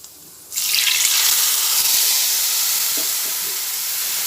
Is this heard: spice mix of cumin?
yes